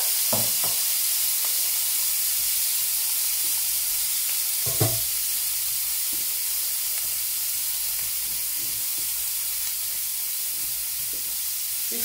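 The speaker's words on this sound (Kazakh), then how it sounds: "Осылай дайындап қуырып бастаймыз." Tiger prawns fry with crushed garlic in a pan, a loud, steady, hissing sizzle throughout with occasional faint utensil taps.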